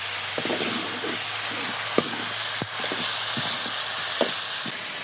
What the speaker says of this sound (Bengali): এখন ভেজে রাখা আলুগুলো দিয়ে দিব আলু দেওয়ার পর আরও কিছুক্ষণ কষিয়ে নেবো